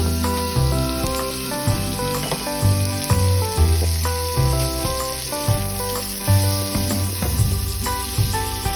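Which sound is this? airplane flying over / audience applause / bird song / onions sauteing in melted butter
onions sauteing in melted butter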